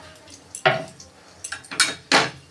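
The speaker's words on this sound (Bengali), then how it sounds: "ওই তেলে আমি কালো জিরে ফোড়ন দিলাম, আর দেবো 4-5টা এলাচ আর লবঙ্গ।" Black cumin seeds tempering in hot oil in a pan for a tangra fish curry, with a few sharp clatters and scrapes of a spatula against the pan, sparse and close.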